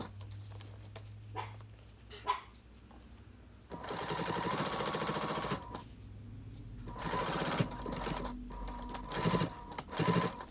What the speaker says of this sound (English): Back stitching as I go over the straps just to give them some more security.